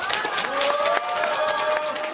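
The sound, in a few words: applause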